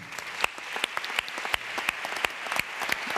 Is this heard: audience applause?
yes